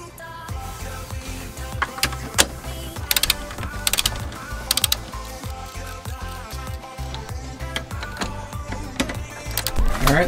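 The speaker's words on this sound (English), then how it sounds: "Now all we gotta do is torque everything down." A ratchet wrench clicks steadily as strut tower brace bolts are torqued down on a 2017 Subaru WRX, with repeated quick ratcheting strokes and a few sharper metallic clacks, close and fairly loud.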